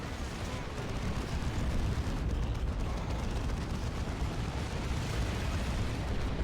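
Tank Buster Barrage in the Dawn of War Elite Mod video game, a dense rumbling roar of overlapping explosions and artillery bursts that stays loud and steady throughout.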